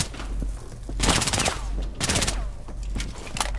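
Rainbow Six Siege gameplay with bursts of automatic gunfire in quick clusters over a constant background hum of game sound, loud and close.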